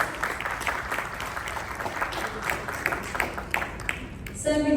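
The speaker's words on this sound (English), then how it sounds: "Gentleman deserves a huge round of applause." An audience at a business conclave on skill development claps for a guest receiving a memento, a steady moderate round of applause that continues throughout, with a brief tonal sound rising at the very end.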